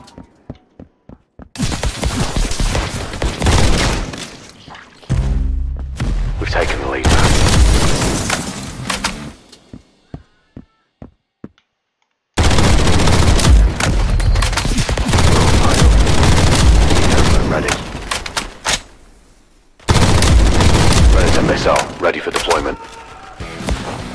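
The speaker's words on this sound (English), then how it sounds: "Throwing a frag." Gunfire and a frag grenade blast in a Roblox first-person shooter, bursts of loud, dense rapid shots broken by short silent gaps, with a deep boom low in the mix and footsteps in between.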